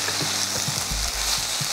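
Ridge gourd pieces fry in a pan, a loud, dense and steady sizzle with faint stirring knocks underneath, close up and uninterrupted, with no voices.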